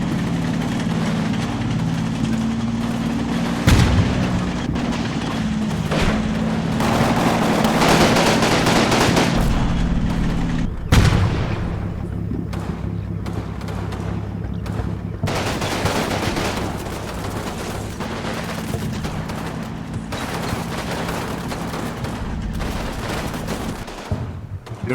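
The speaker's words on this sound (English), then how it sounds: "Germans are still managing to get a few more mortar rounds out." Gunfire and German mortar rounds in the WWII game Combat Mission Fortress Italy form a dense, continuous battle din of rattling automatic fire with a couple of sharper heavy impacts over a low engine drone.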